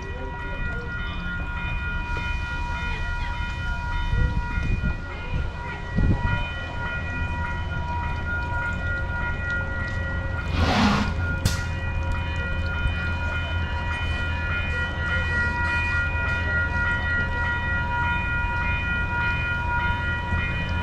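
A southbound passenger train toward San Diego rumbles steadily nearby in Los Rios Historic District for a long stretch with a constant low hum and tonal whine, a brief hiss of air cutting in midway.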